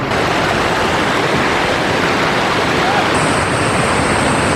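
Water pours steadily from an outdoor shower at a hot-spring area, a loud, dense, unbroken hiss. A faint high whine comes in near the end.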